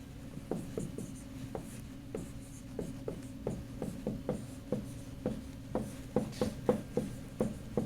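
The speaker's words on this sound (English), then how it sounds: "There's a lot of writing for me." Chalk or marker strokes on a board during a physics lecture, a steady series of short, distinct taps and scrapes in an irregular rhythm, fairly quiet and heard alone.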